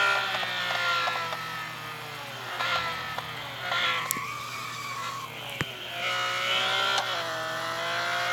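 Race car in a Le Mans racing video game skidding out of control through a turn, a sustained tyre squeal with wavering engine whine under a steady low hum, rising and falling over several seconds.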